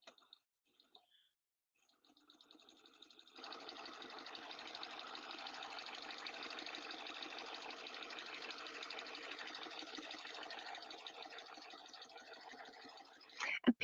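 A serger stitches a seam on a small zipper bag, a steady mechanical whirr running continuously for about ten seconds after a few quiet clicks, then stopping with a couple of sharp taps.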